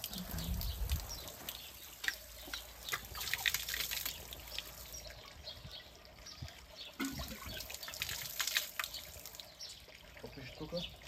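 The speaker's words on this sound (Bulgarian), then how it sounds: "Да си налея вода." Water trickles and splashes from a tap at an outdoor spot near a church in the village of Dobarsko, with irregular dribbling pours, birds faintly in the background and people talking nearby.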